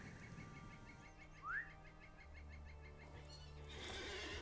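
A horse in the online game The Lord of the Rings Online gives a short, rising whinny over looping game ambience with repeated bird chirps and a low hum, with no talk.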